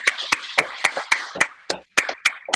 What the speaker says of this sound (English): Let's just give Aerie and the team a big kind of Zoom clap